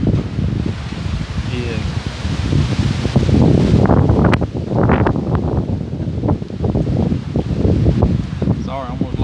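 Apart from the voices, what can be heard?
strong wind blowing in the woods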